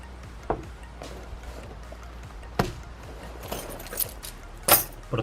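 A small set of keys, a couple of keys pulled out of a survival carry kit, jangles in a few short metallic bursts close by, with soft handling noises between them and no speech.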